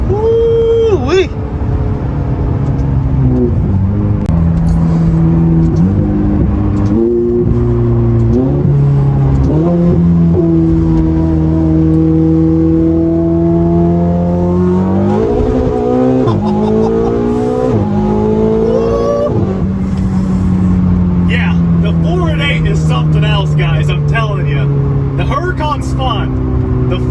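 A twin-turbo 4.8 Ferrari engine pulls hard through a run of gears. Each rising howl is cut short by a quick shift, then the revs climb again, loud and close from inside the car, with people talking over it.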